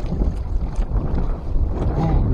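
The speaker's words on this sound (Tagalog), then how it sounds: "Magaling talaga ng hangin, lalong nanadya eh." Strong wind gusting across open sea past a small fishing boat, a continuous low rumbling buffet of wind noise on the microphone, loud and close, with a faint voice talking under it.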